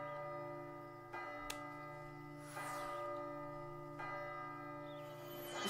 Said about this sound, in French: J'en peux plus de ces sons de cloche.